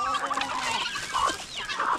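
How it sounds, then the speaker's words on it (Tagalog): Hens and other chickens on a farm cluck in short, close, repeated calls that overlap continuously, with one louder squawk near the end. "Yung mga manok kami dito, yung mga inahin,"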